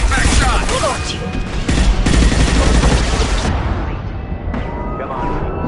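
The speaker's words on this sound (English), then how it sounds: "Fire a high-impact shot!" Gunfire in the Mass Effect 2 video game: loud, dense volleys of rapid shots and impacts that run almost without pause, easing slightly toward the end.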